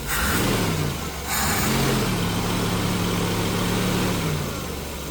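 Jeep engine warming up after a fuel and ignition refresh, idling steadily with a brief rise and fall in revs, a close, continuous mid-to-low rumble with no talking.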